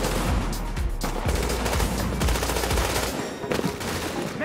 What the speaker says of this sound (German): Beschuss durch leichte Waffen